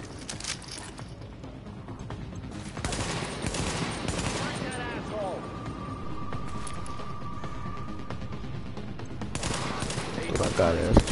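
Rapid bursts of automatic gunfire rattle through a firefight in the shooter game The Division, dense and sustained over background combat noise, with occasional voices mixed in.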